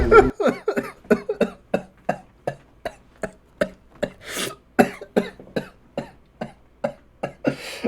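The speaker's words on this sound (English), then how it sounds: "I had a little cough that was coming out right as he did that." A person's cough, a rapid train of about eighteen short, evenly spaced hacks lasting several seconds, close and fairly loud with no talking.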